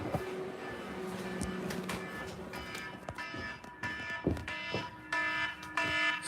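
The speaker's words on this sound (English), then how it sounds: "Set the timer." A kitchen timer for the oven beeps in a run of repeated electronic tones, close and fairly loud, with some clatter around it.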